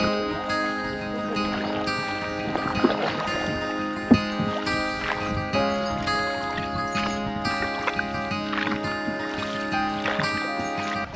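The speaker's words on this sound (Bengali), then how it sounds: "সকাল সকাল বোট রাইড।" Morning boat ride on the water at Daouki in Bankura, with a continuous engine or motor drone carrying steady tonal harmonics and occasional knocks and water sounds.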